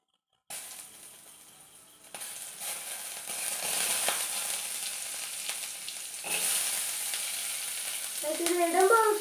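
Chopped onion dropped into hot oil, sizzling and frying steadily with the hiss growing louder and a few brief stirring scrapes near the end; no talking.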